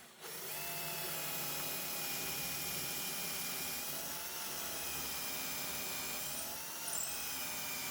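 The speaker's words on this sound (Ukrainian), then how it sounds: "Тут я зараз роблю отвір 7 мм для того, щоб закрутити їх і щоб вони там добре трималися." A power drill boring a 7 mm hole for a DIY bow saw, a steady high whine that holds continuously at close range with a slight dip in speed near the end, no voices.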